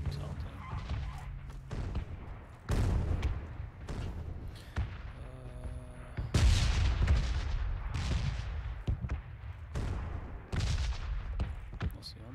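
Heavy gunfire in PUBG booms in separate bursts and single loud blasts, some close and some more distant, spread across the stretch with quieter gaps between them.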